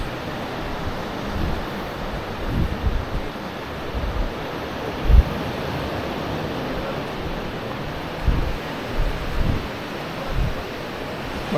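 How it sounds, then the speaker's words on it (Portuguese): Ocean waves break on a beach at Praia da Barra in Florianópolis, a constant roar of surf with periodic low thumps as sets crash, mixed with wind buffeting the microphone. "Mas está dando umas ondas boas, o pessoal está se divertindo."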